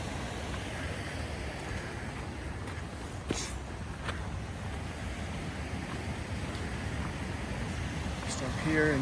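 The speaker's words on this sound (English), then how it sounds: "Absolutely beautiful view of the raging creek." A raging mountain creek near the Green Lakes Trailhead along Fall Creek rushes in a steady, broadband roar that fills the whole scene at a constant level, with a brief louder swell near the end.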